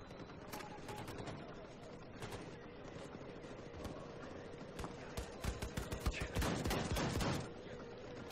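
Gunfire in Wolfenstein 2, rapid volleys of shots and bursts crackling at mid distance, irregular and intensifying toward the end, over a steady low background rumble.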